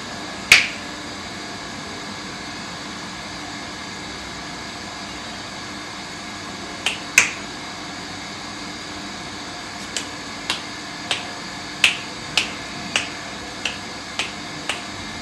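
A tantric snaps his fingers during a ritual in Kolhapur: crisp, loud snaps come singly, then in a pair, then in a quick even series over a steady background hum.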